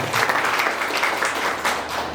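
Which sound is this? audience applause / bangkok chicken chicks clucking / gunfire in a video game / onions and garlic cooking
audience applause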